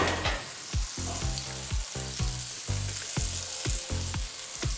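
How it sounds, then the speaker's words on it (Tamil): A small piece of butter sizzles on a hot griddle before wheat pancake batter goes on, giving a steady crackling fry with repeated scraping or stirring strokes, close and alone. "நல்லா கல் சூடான உடனே சின்னதாக ஒரு துண்டு பட்டர் போட்டுக்கோங்க."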